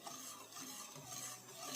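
A spoon stirs a cream mixture of milk, sugar and flour in a pot, giving a soft, steady scraping and swishing sound, close and quiet, with no voices.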